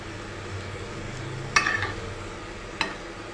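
Chopped spring onions softening in a pan for a potato and spring onion sabzi, giving a steady low sizzle throughout with two sharp clinks of a spoon against the pan, no voices.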